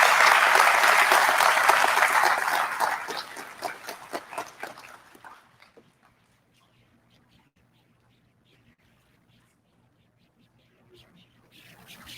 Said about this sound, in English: Please give her a hand.